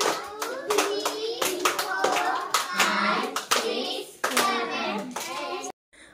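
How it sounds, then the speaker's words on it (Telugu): People clap in rhythm at a child's seventh birthday celebration at home, a run of distinct sharp claps close by with children's voices chiming in, then an abrupt stop. "క్లాప్స్ కొట్రా."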